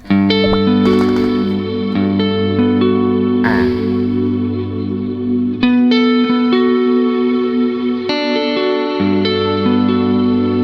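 Electric guitar notes picked one after another ring out with heavy reverb and echo over a steady low sustained tone.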